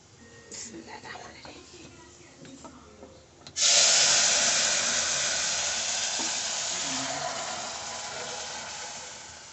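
Cumin seeds and chili hitting hot oil in a cooking pan for tempering, a sudden loud sizzle that bursts in and then fades slowly. Quiet handling noises come before it.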